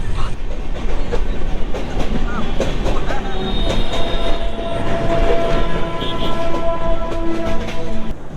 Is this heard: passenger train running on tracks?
yes